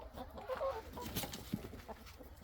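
Chickens cluck softly in a farmyard shelter area shared with turkeys, a few short, faint calls over a low, noisy outdoor background.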